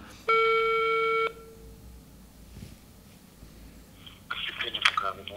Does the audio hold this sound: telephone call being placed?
yes